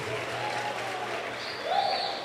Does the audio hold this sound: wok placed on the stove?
no